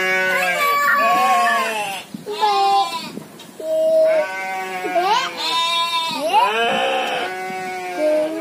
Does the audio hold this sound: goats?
yes